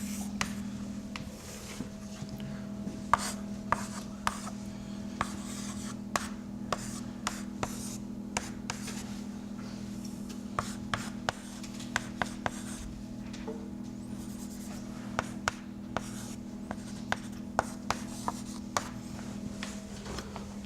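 Chalk or marker strokes drawing a chemical structure on a board during an organic chemistry lecture, a steady run of faint scratchy taps and rubs over a low room hum, with no talking.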